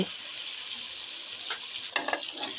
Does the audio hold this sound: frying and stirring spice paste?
yes